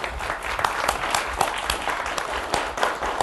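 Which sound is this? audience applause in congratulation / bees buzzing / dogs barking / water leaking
audience applause in congratulation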